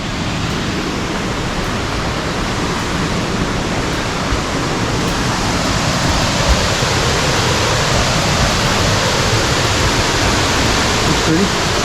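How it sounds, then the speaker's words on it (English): Sycamore Falls, a waterfall along the Fiery Gizzard trail, roars as a loud, steady rushing wash of falling water, continuous throughout with faint voices buried beneath it. "This is Sycamore Falls."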